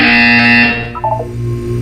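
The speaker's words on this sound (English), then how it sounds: "When you hear the buzzer, look up at the ceiling." A loud, steady electronic buzzer from the video game Portal 2 sounds alone for under a second, then cuts off, leaving a low hum with a few faint tones.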